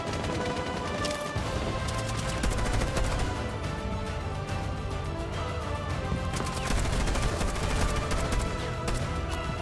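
Rapid gunfire in the Rainbow Six Siege video game, a dense run of sharp shots and impacts filling the whole stretch at steady loudness with no break.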